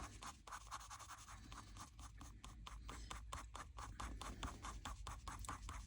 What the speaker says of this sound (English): And I'm using my Derwent Light Fast Forest pencil.